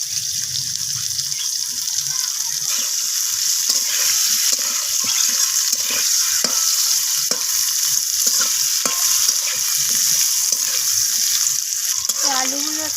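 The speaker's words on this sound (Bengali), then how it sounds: "তো একইভাবে আলুগুলোকেও আমি ফুলকপির মতো লাল লাল করে ভেজে নেব।" Potato pieces fry in oil left from frying cauliflower, a loud, dense sizzle punctuated by repeated stirring scrapes at an uneven rhythm, close by and steady for the whole stretch.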